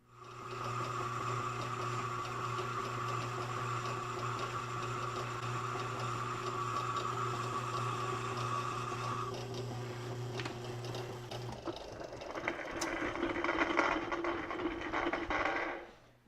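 Machining new main bearings for a John Deere 70 engine with one light pass: a steady whirring machine hum with fine ticking, which shifts to a rougher, busier cutting texture in the last few seconds.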